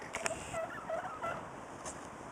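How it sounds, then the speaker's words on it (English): Polish turkeys gobble outdoors at a park, a few short warbling gobbles at moderate distance against steady wind and background noise. "Those are Polish turkeys. They keep going gobbleski,"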